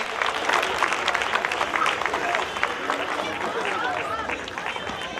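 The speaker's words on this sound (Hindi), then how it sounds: "जोरदार तालियों के साथ इनका स्वागत किया जाए।" Loud, dense applause from an audience welcoming a guest at an ex-servicemen program, sustained clapping with crowd murmur and voices mixed in.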